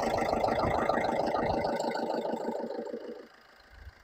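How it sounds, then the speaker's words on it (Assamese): A Tata Manza car engine idles with a steady, rhythmic throb, close and fairly loud, before it drops away near the end, leaving quieter background noise. "দেখিছে কি চাইলেণ্ট ইঞ্জিন একদম"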